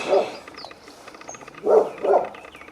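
A dog gives three loud barks, one at the start and a close pair near the end, heard outdoors among flowering cherry trees in spring, with faint bird chirps in the background.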